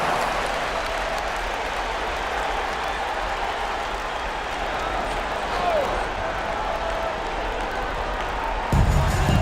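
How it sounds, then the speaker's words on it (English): Crowd applause and cheering during a timeout at a basketball elimination game, a steady wash of clapping and voices filling the gym, with a brief louder burst near the end. "Give yourself a round of applause."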